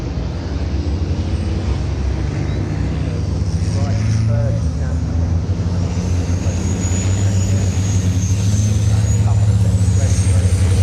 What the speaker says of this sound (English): Seventeen trucks out there, one starting from the pit lane.